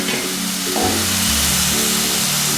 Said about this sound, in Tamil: இஞ்சி பூண்டு பச்சை வாசனை போகிற வரைக்கும் வதக்குவோம்.